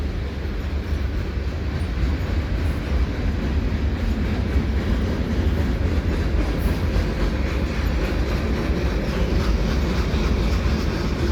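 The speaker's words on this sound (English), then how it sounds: "Yeah, this train's picking up now." Freight train hauled by two back-to-back SD70M-2 locomotives with mixed cars including aluminum slab loads and scrap metal gondolas, rumbling steadily past under a ramp with continuous heavy low roar and rail clatter throughout.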